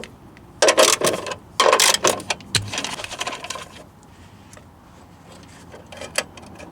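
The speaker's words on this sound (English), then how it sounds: "So we're just going to pull these 3 bolts off of here real quick" Metal bolts being removed from the housing of a van's wheelchair lift, with a handful of sharp clinks and rattles clustered early on, then quieter scattered taps and a last click.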